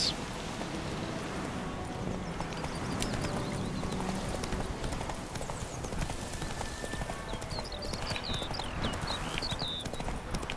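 Roach, the horse from The Witcher 3, gallops with a steady, dense patter of hooves throughout, fairly faint in a busy game soundscape with faint bird chirps, and no voices.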